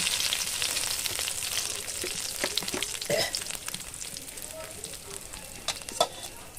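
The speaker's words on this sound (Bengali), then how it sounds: "জিরা ফোড়ন দিচ্ছি।" Cumin seeds sizzle steadily in hot oil, a close, continuous frying hiss with small crackles and pops throughout and no talking.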